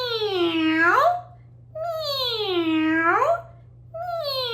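Children's voices imitate a cat, drawing out long, sliding meows in unison during a classroom music activity, three loud stretched calls separated by short pauses.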